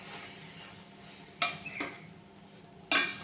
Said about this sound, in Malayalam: നമുക്ക് നല്ലപോലെ ഇളക്കി യോജിപ്പിച്ചെടുക്കാം